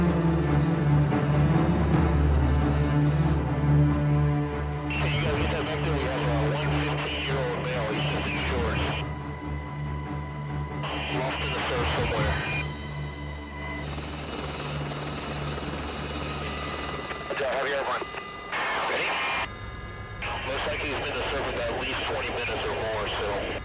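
An HH-65 rescue helicopter drones steadily with rotor chop throughout, loud and continuous, while a voice talks over it at times.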